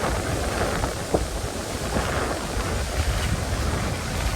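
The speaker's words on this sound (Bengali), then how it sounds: "বিভৎস হাওয়া দিচ্ছে।" Strong wind blows steadily beside the Rupnarayan river, a loud continuous rushing roar buffeting the microphone, with faint gust peaks and no voices.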